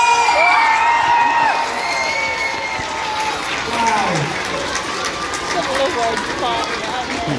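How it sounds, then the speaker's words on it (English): A large outdoor crowd at a truck show cheers, whoops and applauds continuously and loudly, with children shouting and whistles rising over the steady roar. "The biggest cheer we can possibly give him."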